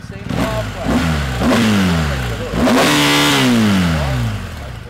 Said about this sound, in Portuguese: Pode dar uma aceleradinha nela?